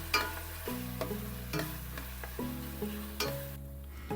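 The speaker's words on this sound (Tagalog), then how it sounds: "ilagay na natin itong 1/4 kg na pork liempo. And then, igisa lang natin yan ng mga 5 minutes." A quarter kilo of pork liempo sautés with onion in a pan, a soft steady sizzle with light stirring knocks at regular intervals, fairly faint and with no talking.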